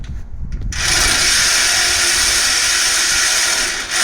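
Continuous loud metallic grinding and ratcheting as a wrench works on truck bolts on a wrecked L5P, a steady harsh whir that starts abruptly after a quieter moment and runs without pause.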